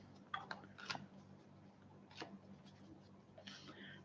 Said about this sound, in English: And let me shuffle these cards.